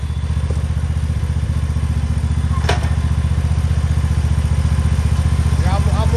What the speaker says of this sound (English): Hey, you want to put the backpack blower on?